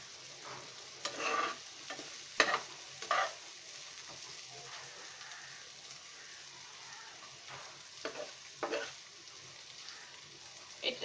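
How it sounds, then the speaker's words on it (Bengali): Onions frying in a little oil for a potol (pointed gourd) dish, with a steady soft sizzle and several louder bursts of stirring and scraping in the pan. No one talks. "আমরা এখন এটাকে একদম পুরো এই অল্প তেলের ভিতরে সুন্দর করে ভেজে নেব পেঁয়াজটাকে"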